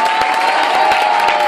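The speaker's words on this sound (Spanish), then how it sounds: "¡Fuerte, fuerte el aplauso!" Audience at a Spanish gala applauding and cheering after a medley: loud, sustained clapping with sharp individual claps standing out above a steady crowd roar and shouts.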